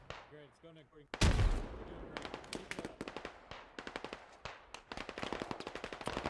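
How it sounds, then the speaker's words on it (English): Machine gun fire in the tactical shooter Squad: a single loud shot followed by sustained, rhythmic bursts of rapid automatic rounds, close and sharp, with a voice briefly heard before the firing starts. "Where's this machine gun firing from though?"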